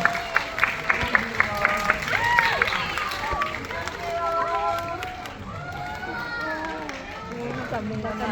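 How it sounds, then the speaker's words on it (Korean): Theatre audience at CGV Yongsan clapping and cheering to welcome the cast of the film Smuggling at a stage greeting: steady crowd applause with scattered sharp claps, voices and excited chatter mixed throughout. "뜨거운 박수로 환영해 주시면 감사하겠습니다"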